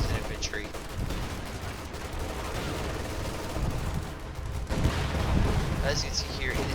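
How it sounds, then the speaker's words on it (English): Battle sounds in Company of Heroes 2: dense, continuous gunfire and booming blasts from a grenade explosion, loud and sustained throughout, with a voice talking over the noise. "I threw a grenade which took that out."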